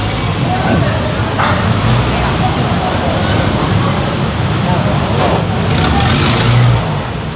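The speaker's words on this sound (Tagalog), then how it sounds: "Wow, lakas ng truck." Loud, steady engine roar of a tow truck on a road beside a bridge service road in Taguig City, continuous throughout with broadband rumble and faint voices under it.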